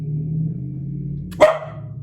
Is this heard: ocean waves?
no